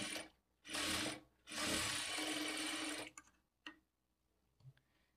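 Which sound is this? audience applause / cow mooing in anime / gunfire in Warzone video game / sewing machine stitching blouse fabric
sewing machine stitching blouse fabric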